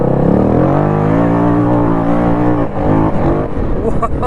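Modified Yamaha Grizzly 700 ATV with hot cam, ported head and Coops clutch, its engine revving hard and climbing steadily toward 8000 RPM, loud and close, with a brief dip near the end before revving again.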